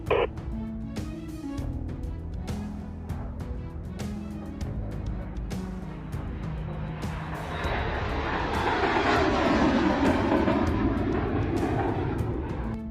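Boeing MQ-25 drone taking off from an aircraft carrier deck, a loud continuous jet roar that swells and broadens toward the end, with sharp mechanical clanks early on, no talk.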